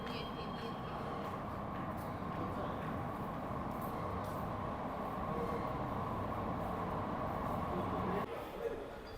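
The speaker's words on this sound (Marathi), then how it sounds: "हे बघा इथे ट्रेन आली" A metro train rumbles steadily into an enclosed underground station in Mumbai, a continuous loud roar with a faint high whine, settling near the end.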